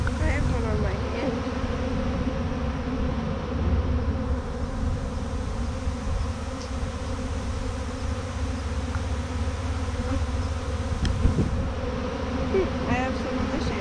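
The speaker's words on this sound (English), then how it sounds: "It's a pretty big swarm." A huge swarm of honeybees buzzing close by, a dense continuous drone of many wings holding steady throughout, loud and near.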